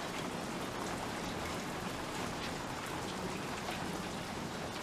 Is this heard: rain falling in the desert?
yes